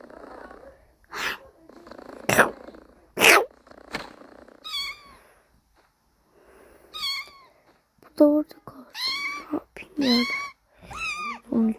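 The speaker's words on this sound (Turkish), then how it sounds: "Gel kedileri şuraya koyak." Pet cats meowing in a series of sharp, rising calls, several close together near the end, with people talking softly and rustling sounds in between.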